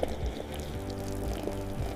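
Hot water pours steadily onto weeds growing in a crack in a hard patio surface, a continuous close splashing trickle with no talking.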